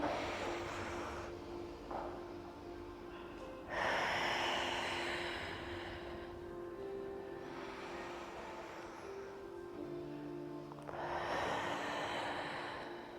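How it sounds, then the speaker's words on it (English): Slow, deep breaths in a Pilates class: long airy inhales and exhales rise and fall in three or four waves, close to the mic over a faint steady hum. "2 deep breaths in"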